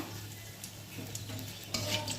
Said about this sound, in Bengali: আর এই বড়ি ভাজার তেলে একটা শুকনো লঙ্কা দিয়ে দিলাম